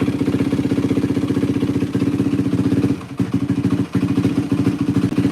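A 2003-2005 Yamaha WR450F dirt bike engine runs steadily after a carburetor rebuild, a loud rapid thumping idle with brief dips near the end as the choke floods it with too much fuel.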